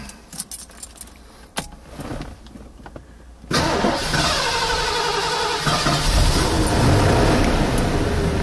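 Keys jangle close by before a 1983 Zimmer Golden Spirit's engine cranks and catches, settling into a loud, steady idle that carries on to the end; no one speaks.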